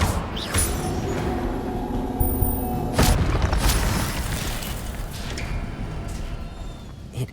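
An Incendio fire spell in Hogwarts Legacy bursts with a sharp whoosh and roaring crackle, and a second flare follows over a rumbling game soundscape.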